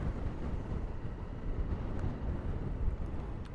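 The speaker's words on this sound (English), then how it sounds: "Beautiful day today, but yeah, hellishly windy." Strong wind buffets a helmet-mounted camera microphone on a motorbike in a steady low roar, loud and continuous with no voices.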